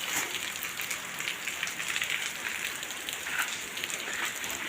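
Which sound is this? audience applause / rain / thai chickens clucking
rain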